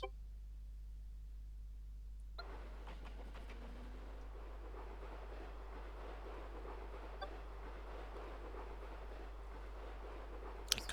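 A locomotive runs around its train in the A-Train 9 railway simulation game, a steady low rail rumble with faint clicks under a constant hum, fairly quiet and without talk.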